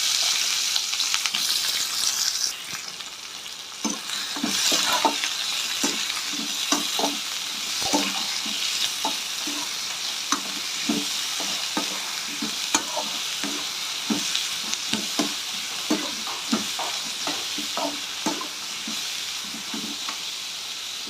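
Chopped onions frying in hot oil in a pan give a loud, continuous sizzle, with frequent rhythmic scraping and stirring strokes throughout and no voices.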